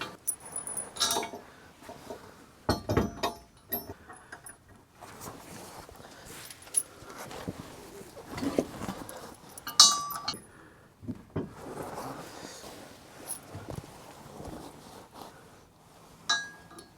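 Metal bolts with lock washers and flat washers clink and jangle as they are fitted during a B&W gooseneck ball hitch install on a 2017-2022 Ford F-350, with scattered light taps and scrapes up close and no talking.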